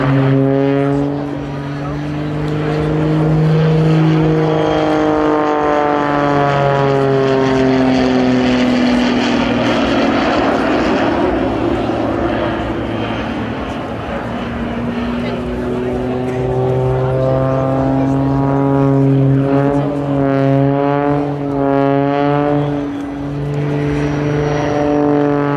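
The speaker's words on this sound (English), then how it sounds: "We'll see full power being applied to one of the jet engines, idle power to the other, and full rudder." Jet-boosted Pitts S2S aerobatic biplane at an airshow display, one jet engine at full power and the other at idle during a wingtip cartwheel: loud sustained engine roar with pitch sweeping up and down, plus a steady propeller hum, under commentary.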